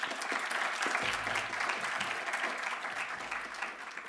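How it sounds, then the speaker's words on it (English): Audience at a university debate giving a quick round of applause for the student moderator, a steady mass of clapping at moderate loudness with a few low thumps, easing off slightly near the end, with no voices. "please a quick round of applause for her"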